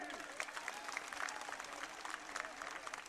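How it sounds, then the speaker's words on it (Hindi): Crowd applause at a Congress political rally, a faint, distant patter of scattered clapping with an indistinct voice heard under it, rising and falling unevenly throughout. "बजाओ ताली"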